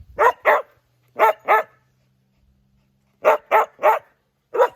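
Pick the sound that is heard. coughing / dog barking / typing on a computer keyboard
dog barking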